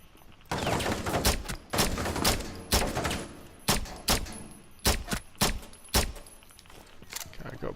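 Gunfire in Rainbow Six Siege, a string of sharp, loud single shots and short bursts spaced irregularly over several seconds, close and punchy with background game noise between.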